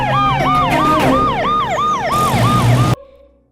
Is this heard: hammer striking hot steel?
no